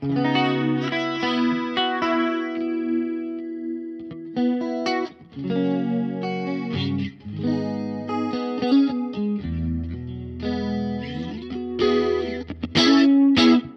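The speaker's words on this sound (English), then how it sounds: "same chorus and a large room reverb. This is on its fuller setting." Electric guitar chords and picked notes through a Fender Mustang Micro with a shimmering chorus effect on its fuller setting and large room reverb tail, played steadily and fairly loud.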